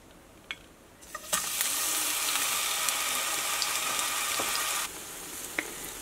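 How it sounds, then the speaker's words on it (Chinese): Steamed bun slices dipped in sugar water frying in a pan over high heat: a loud, steady broadband sizzle bursts in after a second, holds for several seconds with a few sharp pops, then drops back to a quiet background. "煎馒头片的时候火力可以开大一点，这样会煎得比较快"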